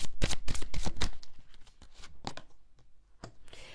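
Tarot cards being shuffled for a reading, a quick run of crisp riffling flutters up close, followed by softer scattered card slides and taps.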